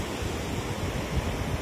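Waves crash on the rocks below a shoreline overhang at East Harbor State Park in Marblehead, Ohio, heard as a steady, dense roar of surf with some wind noise and no talking.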